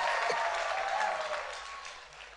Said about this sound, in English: Let's clap for a couple as they go back